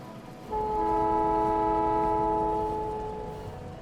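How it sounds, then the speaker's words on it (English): Train horn in the Factorio video game sounding as a train arrives, a loud sustained multi-tone blast starting after a brief pause and fading gradually under rolling rail rumble. "So this train's coming in."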